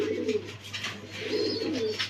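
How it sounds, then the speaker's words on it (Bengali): A pair of Damascene pigeons at a pigeon farm in Mirpur coo in two soft, rolling bouts close by, with a low steady hum behind them. "এক জোড়া দামাসিল কবুতর"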